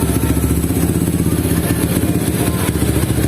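A Honda CB motorcycle engine rebuilt with a 71 mm Herex piston and 66.2 mm stroke runs close by in a steady, throbbing, loud drone with faint mechanical clatter and no voices.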